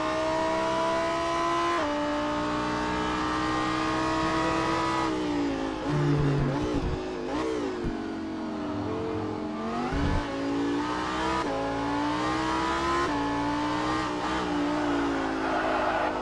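Onboard a Lamborghini Super Trofeo race car at Laguna Seca, a loud engine howls steadily, with harmonic whine rising and falling through gear changes and lifts for corners.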